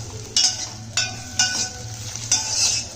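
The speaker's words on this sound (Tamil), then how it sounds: "நறுக்கி வச்ச அந்த வெங்காயம் மூணு பச்சை மிளகாய் போட்டு வதக்கிக்கிடுவோம்" Chopped onions and three green chilies frying in oil in a pan, stirred several times, each stir raising a burst of sizzling over a low background hum.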